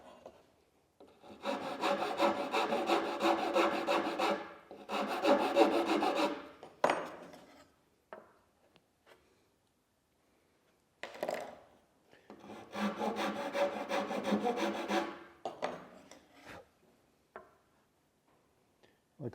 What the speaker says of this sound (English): rasp, and this one's slightly rounded, and we start trimming some off of here